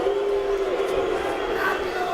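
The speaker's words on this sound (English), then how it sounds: "Crowd getting a little disgruntled." A boxing arena crowd boos and grumbles in disapproval during a fight, a dense, steady roar of many voices that holds without pause.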